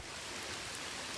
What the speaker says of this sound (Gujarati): વરસાદ ધીમે ધીમે ચાલુ થઈ ગયો છે